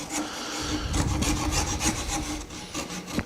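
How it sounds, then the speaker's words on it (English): A wood rasp shapes a hand-carved wooden sculpture held in a vise, making steady, coarse rubbing strokes up close that repeat in a quick rhythm and fill the whole moment. "use this rasp to bring this into the round"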